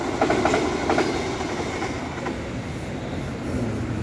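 A train rolls past nearby at a bus terminal in Bekasi, giving a steady loud rumble with rhythmic clickety-clack of wheels over rail joints, strongest in the first second and holding throughout, with no talking.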